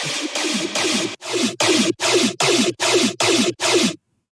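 A gritty, distorted bass synth chopped into about nine rhythmic stabs, each with a wobbling tone, ending abruptly in silence.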